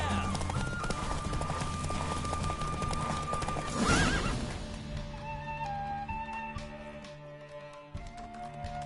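Roach the horse racing in a video game, with rapid clip-clop hoofbeats and a whinny under music, busy and loud at first, then fading toward a quieter close.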